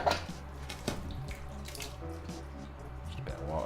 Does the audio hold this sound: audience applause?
no